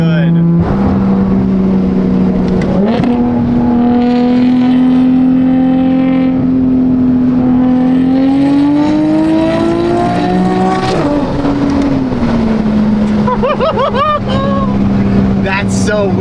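A BMW M4 run with no muffler or resonator holds a loud, raw, droning engine note that climbs slowly in pitch, dips, then flares into sharp revs near the end.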